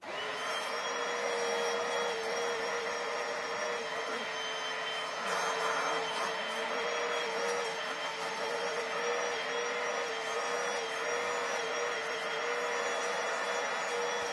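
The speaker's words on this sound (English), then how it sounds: "then I'm going to be scrubbing it back and forth and suctioning right here" A Bissell Little Green carpet cleaner drones steadily at close range as it scrubs back and forth and suctions, a constant whining motor hum that holds level throughout with no talk.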